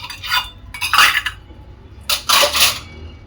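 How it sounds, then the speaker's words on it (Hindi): Steel utensils set into a kitchen dish rack, with two bursts of metallic clinking and rattling close by, separated by a brief quiet gap. "यहाँ लग चुके हैं सारे बर्तन स्टैंड में"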